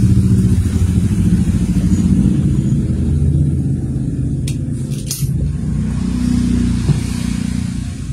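A steady low electric fan motor drone with a rough, scraping rattle from the rotor rubbing the frame runs throughout, close and loud, with a few brief clicks partway through.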